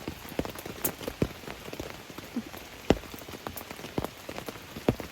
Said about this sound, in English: It's going to be a rainy day today.